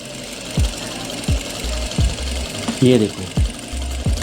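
A sewing machine stitches a straight palazzo in short, knocking bursts separated by brief pauses, close and fairly loud, while someone talks over it.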